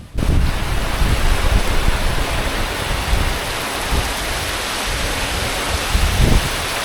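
Steady heavy rain pours down in a continuous broadband hiss, loud and close, with no voices.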